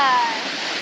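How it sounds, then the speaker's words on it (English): Steady broadband rush of a waterfall in the Canadian Rockies, heard during a canoe trip, a constant hiss of falling water with a brief whistling tone at the start. "Waterfall number"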